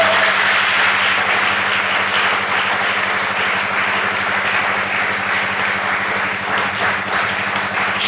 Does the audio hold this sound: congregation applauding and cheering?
yes